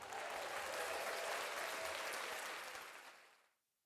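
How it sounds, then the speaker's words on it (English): A round of applause plays as a sound effect, dense clapping that holds steady, then fades out completely in the last second. "let me give them a round of applause"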